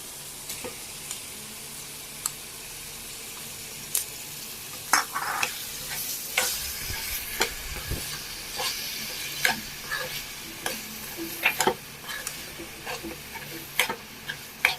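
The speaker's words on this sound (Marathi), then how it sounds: "आता आपण त्याच्यात टाकणार आहोत हे जे 1 वाटी जे आपण सोलून घेतलेले ते जे खुबे होते ते आता आपण ह्याच्यात ॲड करणार" Peeled clams go into a masala in a pan and get stirred and fried, giving a steady sizzle under repeated scraping and clinking of the spoon against the pan, close and clear with no talk.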